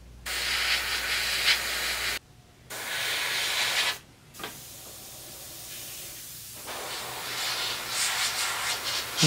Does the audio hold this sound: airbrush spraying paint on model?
yes